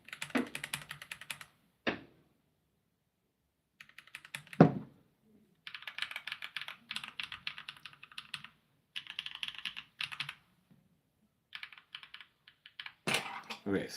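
Mechanical keyboard switches, blue, brown and yellow types swapped in turn, click in bursts of close, crisp typing separated by pauses, with a few louder clacks and some soft background noise between.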